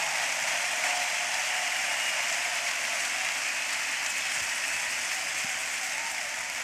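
A church congregation applauding, a steady, full wash of many hands clapping at an even level throughout, dense and close with no pauses.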